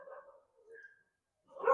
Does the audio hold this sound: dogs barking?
yes